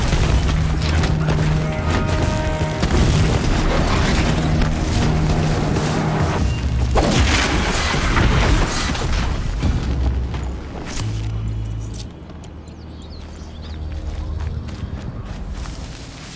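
Heavy booming explosions and crashing impacts from the Horizon Zero Dawn video game, loud and continuous for most of the span, with deep rumbling blasts that ease off toward the end.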